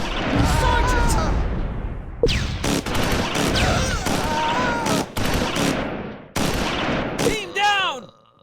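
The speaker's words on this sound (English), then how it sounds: "A German light machine gun" German light machine gun fire in the World War II game Close Combat 4, set in the Battle of the Bulge, rapid bursts and scattered gunshots with impacts, shouted voices mixed in.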